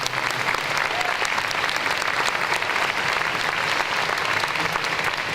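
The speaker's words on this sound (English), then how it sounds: "Please give them another big round of applause." An indoor audience at a sports facility inauguration claps steadily and evenly, a dense, sustained round of applause filling the whole stretch.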